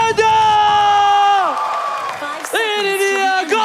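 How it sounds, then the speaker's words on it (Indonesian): An esports crowd at a Mobile Legends playoff match in Indonesia cheers loudly, with sustained high whoops and shouts that drop away and then surge again partway through. "Mana tepuk tangannya?"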